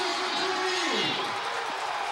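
A high school football crowd roars in sustained, loud cheering and whooping after a winning kick, a dense wash of voices with a sliding whistle or horn tone inside it.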